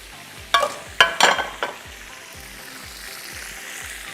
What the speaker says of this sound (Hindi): मिक्स कीजिए इसको और चिकन को इसमें शामिल कर दीजिए। मक्खन ज़रा पिघल जाए।